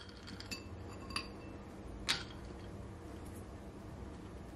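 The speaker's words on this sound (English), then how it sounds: "Gonna add some more ice." Ice cubes drop into a glass of cucumber juice, giving two or three light, close clinks of ice on glass spaced about a second apart over a quiet background.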